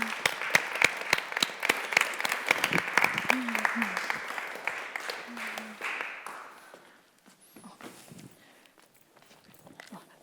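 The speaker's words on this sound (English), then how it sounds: "So can we get a round of applause for Peter, please?" Audience applause at a Cambridge Union event greets the guest Peter Tatchell, dense clapping filling the room for about six seconds, then thinning out and fading into scattered claps and room noise.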